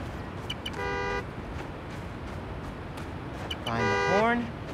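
In Spider-Man: Miles Morales, a parked car's horn blares twice from across a city street, a short honk and then a longer, louder blast, over ambient traffic noise and murmuring.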